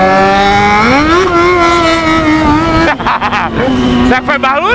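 Yamaha XJ6 motorcycle engine running loud and near, rising through one long steady pull, then backing off with choppy throttle blips and a brief renewed rev.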